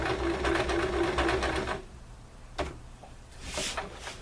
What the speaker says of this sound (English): when you get to the end, you're going to back stitch again